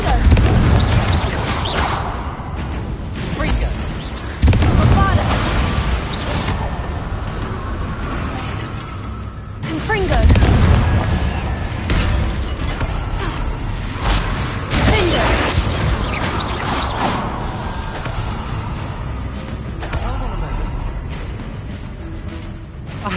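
Spell explosions from Bombarda and Confringo in the Hogwarts Legacy video game boom and crash repeatedly through a busy combat mix, heavy thuds recurring every few seconds amid clattering and rumbling effects.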